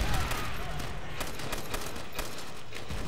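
Light machine gun fire in Call of Duty: World at War, a continuous stream of rapid, loud crackling bursts of gunfire with a person talking over it.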